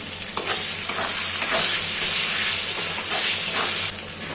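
Onions sizzling and frying in a pan with ground spices including cumin, turmeric and coriander, a steady close hiss with occasional stirring scrapes throughout.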